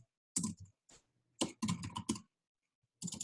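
Short bursts of typing on a computer keyboard, clustered keystroke clicks separated by brief pauses, close and fairly quiet with no talking.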